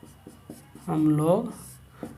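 Pen scratching out a maths solution in short strokes, with brief soft scrapes around a stretch of someone talking in Hindi.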